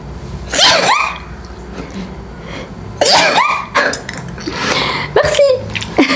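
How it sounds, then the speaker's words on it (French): Close up, a person sneezes in a few sharp, breathy nasal bursts spread over several seconds, with quieter breathing and rustling between them. "j'ai envie d'éternuer"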